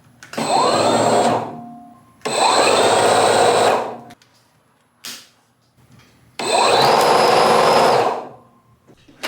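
A Toro Power Shovel 60-volt cordless snowblower whirs loudly in three long bursts of several seconds each, separated by short pauses, with no talking.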